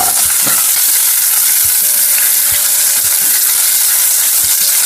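Ginger sizzling and frying in a hot pan with oil, a steady loud hiss with occasional stirring clicks and scrapes throughout, no voices.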